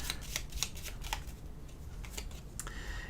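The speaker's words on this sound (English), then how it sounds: "Let's give these a little shuffle here." A deck of board game cards is shuffled up close, giving a series of quick riffling flutters and snaps that repeat steadily, with no voices.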